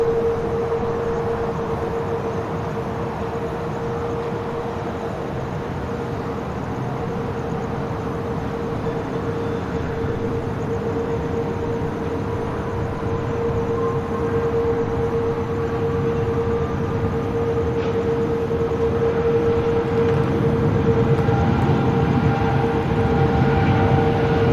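A Qantas airliner departing Sydney Airport for Hawaii roars steadily for a long stretch, a sustained engine drone with a persistent whining tone, swelling gently toward the end.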